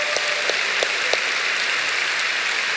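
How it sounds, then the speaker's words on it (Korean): A congregation applauds at a Friday night worship service in a church, a dense, steady clatter of many hands with a few sharper claps standing out, continuous for the whole stretch. "우리 중등부를 위해서 박수 한번 치겠습니다"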